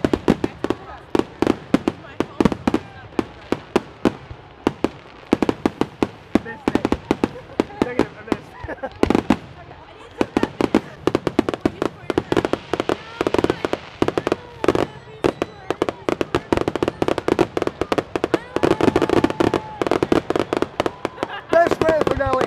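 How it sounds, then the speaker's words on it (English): A long fireworks show reaches its grand finale with dense, rapid explosions crackling and booming almost without pause, loud and near, overhead bursts close enough that debris falls on the crowd. "World's longest fireworks show."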